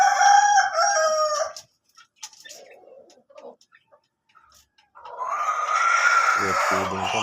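A pet rooster crows loudly and close, a long drawn-out call, followed by quiet clucks and a second chicken vocalising in a long call near the end, with no talk.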